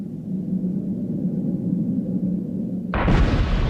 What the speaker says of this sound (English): the standard practice for exposing a new rock face is to blast it